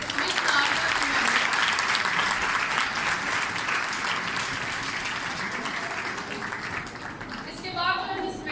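Sustained audience applause fills the hall at a Women's Day seminar in St. Ignatius Parish, Samanabad, a dense steady clapping that slowly tapers while a voice speaks over the end.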